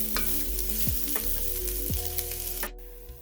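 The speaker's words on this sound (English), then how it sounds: "Give this a stir and let this sweat down just a bit." Vegetables sweat in oil in a hot pan with a soft continuous sizzle, while a spoon stirs them with a few distinct scraping strokes close by, no voices.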